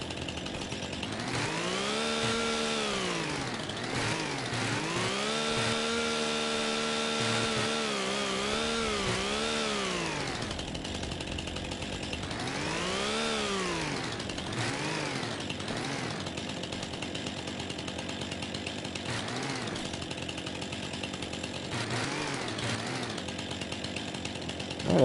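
A chainsaw trims a tree in the Farming Simulator 25 video game, its engine droning loud and steady throughout, revving up and down in repeated swells as the blade cuts, with no talking.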